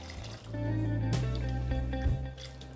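Tamarind water poured into a pot of snakehead murrel fish curry, a liquid splashing and filling sound with a clunk partway, close and moderately loud.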